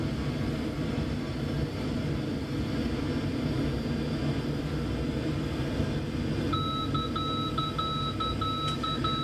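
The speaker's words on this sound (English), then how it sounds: "I've commanded pretty much full power there, just starting to come in now." Twin Otter turbine engines run at nearly full power in flight, a dense, steady roar with a constant whine and no talking. Near the end a repeating electronic beeping tone joins in.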